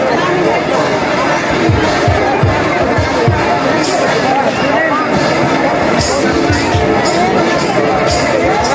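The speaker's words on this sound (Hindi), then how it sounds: "यहाँ पे मंदिर प्रांगण में ये हलचल मचा हुआ है चारों तरफ" A loud, dense crowd bustles in a temple courtyard during a kirtan, with steady babble of many voices and occasional low thumps beneath the chatter.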